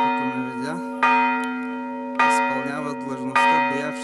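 A church bell in a Bulgarian community near Xanti is struck by hand, ringing three loud, clear strikes about a second apart, each leaving a long humming ring that slowly fades.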